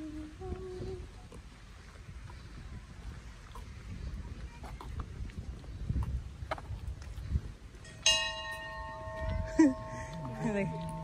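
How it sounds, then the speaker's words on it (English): A bell rings in a rose garden at Hanamaki Onsen in Iwate, a clear struck tone that rings out and decays over outdoor ambience, wind and footsteps, with people talking nearby. "Nagbe-bell. Bell."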